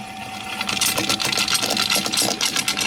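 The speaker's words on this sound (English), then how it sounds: "As we turn on the 3-phase power, it begins to spin" A 100 millimeter flywheel carrying eight double-stacked magnets spinning on 3-phase power, giving a fast, buzzy mechanical whirr with a steady rapid pulsing, close and fairly loud, heard alone.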